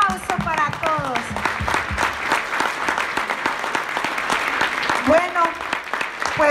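Audience at a business presentation applauding first-time attendees, uneven crowd clapping mixed with cheering and a loud voice speaking over it.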